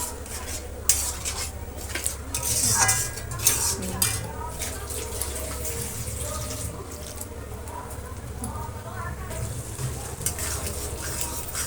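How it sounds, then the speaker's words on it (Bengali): Chicken masala with yogurt being sautéed in a pot at home, a spoon clinking and scraping against the metal in uneven bursts over a soft sizzle, with someone talking intermittently. "ভালো করে কষতে হবে।"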